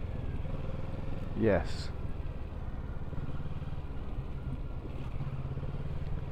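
Triumph Daytona 675 twin motorcycle engine running under a voice, a steady low rumble with one brief rising rev swell near the start.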